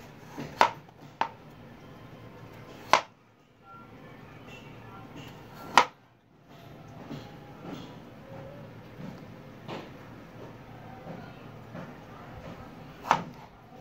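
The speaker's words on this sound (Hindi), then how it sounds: "अब हम एक एक इंच के मोटे पीस काट लेंगे।" A knife chopping a peeled potato into pieces just under one inch thick on a cutting board, sharp knocks arriving irregularly with pauses between them, close and moderately loud.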